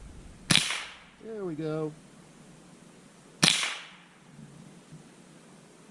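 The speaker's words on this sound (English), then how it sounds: "I'm shooting right over the top." Two sharp, crisp rifle shots from a Smith & Wesson M&P 15-22 .22 rifle fired at outdoor targets, about three seconds apart, with a short spoken remark between them.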